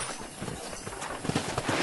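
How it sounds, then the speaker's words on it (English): Horse hooves clip-clop at a steady walking pace in the PS3 game Red Dead Redemption on a Western ranch, close and clear over a soft ambient outdoor bed. "I picked out a fine horse for you."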